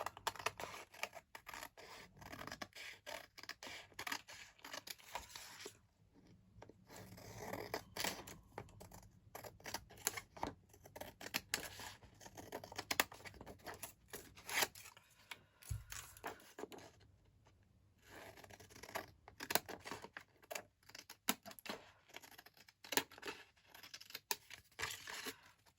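Scissors snip away excess paper while a tag and ephemera holder is made, a long run of soft, scratchy cuts and rustling paper handling, close and fairly quiet, with no talking.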